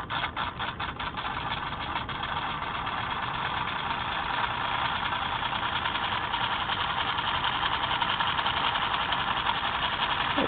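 A small solenoid motor runs on 12 volts DC with a steady, fast mechanical clatter. It starts with a few distinct clicks, settles into a continuous buzzing rattle and keeps a constant level throughout.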